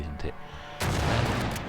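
Rifle gunfire in the Xbox 360 game 007 Quantum of Solace: a burst of sustained shots kicks in partway through, loud and dense, with a voice speaking briefly over the game audio before it.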